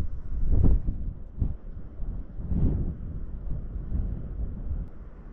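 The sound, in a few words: high wind while flying a DJI Avata drone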